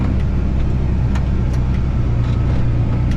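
Steady, loud engine drone of a John Deere 8400 tractor running continuously while being shifted up through its high gears, with a deep low rumble and occasional faint clicks, no talk.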